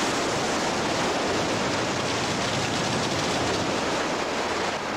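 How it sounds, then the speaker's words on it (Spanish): Summoned water rushes through stone in a fantasy audio drama, a dense, loud, continuous roar of flowing water with no voices over it. "Yo te invoco agua. Fluye a través de la piedra."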